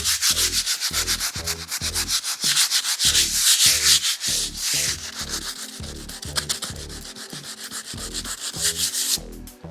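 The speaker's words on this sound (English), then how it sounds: "just give it a slight rub over any lumps and bumps that you see" Rhythmic hand sanding with sandpaper over lumps and bumps on a wall before painting, a steady back-and-forth rasping of close strokes that continues throughout with no talking.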